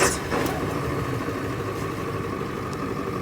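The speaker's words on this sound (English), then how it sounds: "I usually start up the engine and let it run for a few minutes" A converted school bus engine, started up on a mild 50-degree day, idles with a steady low rumble and faint broadband hum after a brief initial surge, with no talk over it.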